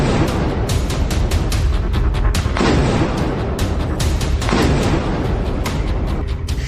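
Heavy, continuous rumbling blasts from drone strikes on artillery, tanks and missile systems in the Russia-Ukraine war, with repeated booming impacts, loud and dense like distant explosions rolling over one another.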